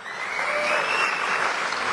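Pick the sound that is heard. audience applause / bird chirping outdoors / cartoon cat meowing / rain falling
audience applause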